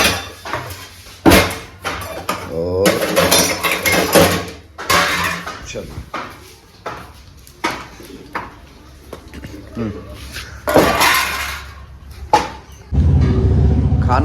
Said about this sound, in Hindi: मैं ले लेता हूँ बर्तन